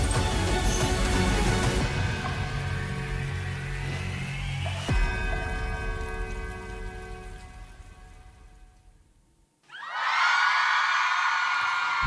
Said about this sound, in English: The crowd are ready.